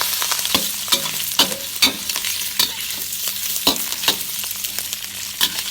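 Pork belly stir-fried in a hot wok, with steady sizzling and frying under repeated scraping strokes of a spatula against the pan, close and continuous with no talk.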